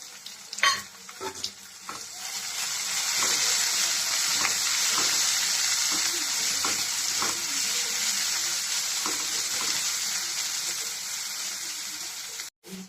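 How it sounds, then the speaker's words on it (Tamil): Finely chopped onions sizzle steadily in a hot pan while a spoon scrapes and stirs now and then, close up, with no one talking. "இது எல்லாத்தையும் நல்லா வதக்கிக்கலாம்"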